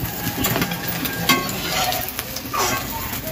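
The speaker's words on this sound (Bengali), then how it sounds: "এই একই ভাবে আমি বাকিগুলো ভেজে নেব" Stuffed ash gourd pakoras fry in hot oil in a village kitchen, a loud, close, continuous sizzle and crackle with occasional stirring scrapes and no voices.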